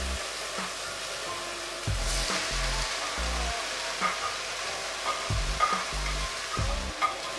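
Chopped onions, garlic, celery and carrots sizzle steadily in a hot pan, a close, continuous frying hiss broken by soft scraping and clunks of a utensil stirring the vegetables.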